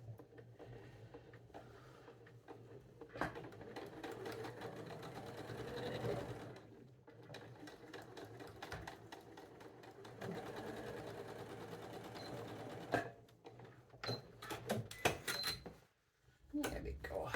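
A sewing machine stitching quilt rows together, close and steady in long whirring runs broken by brief pauses, with faint talk between the stitching.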